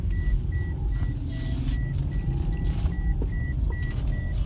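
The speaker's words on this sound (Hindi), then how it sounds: "लाहौर में ट्रैफिक बढ़ती ही जा रही है दिन ब दिन।" Road traffic at a busy roundabout in Lahore, with a steady, loud rumble of engines and a regular series of electronic beeps repeating about every half second throughout. No one speaks.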